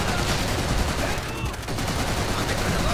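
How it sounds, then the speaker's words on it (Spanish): Dense, continuous enemy machine gun fire in the World War II shooter Call of Duty: World at War, a steady roaring clatter of rapid shots filling the whole stretch with a brief dip midway, loud and close amid battle noise. "¡Ametralladora enemiga!"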